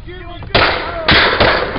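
Gunshots fired during an arrest, three loud sharp reports close by, spaced about half a second apart, each followed by a brief echoing decay.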